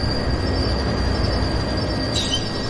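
A BC Rail freight locomotive pulls a Via Rail passenger train, a steady loud rumble of the moving train with a faint high wheel squeal near the end.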